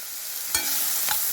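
Chopped tomatoes added to sautéing onions in a pan for a fenugreek leaf masala, a steady sizzle with two sharp stirring scrapes partway through, close by and with no voices.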